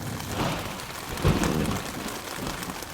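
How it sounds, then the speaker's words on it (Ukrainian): Rain falls steadily in the Carpathian countryside with a low rumble of nearby thunder swelling briefly in the middle, no voices present. "Від тих блискав, від того грому. Блін, тут гримить, тут близько."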